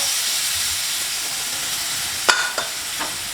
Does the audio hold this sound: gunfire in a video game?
no